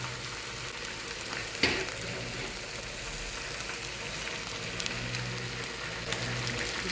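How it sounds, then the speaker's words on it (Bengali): Chicken and pasta frying together in a pot over a picnic cooking setup, a steady close sizzle running throughout with one sharp scrape near the start and faint stirring. "এখানে আমি আবার চিকেনটা ফ্রাই করে নিতেছি"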